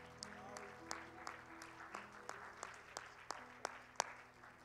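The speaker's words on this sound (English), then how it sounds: "Can we give the Lord a hand clap of praise?" A church congregation at Sunday worship gives a hand clap of praise, with scattered, fairly faint claps spaced unevenly over a quiet room and a low sustained tone underneath.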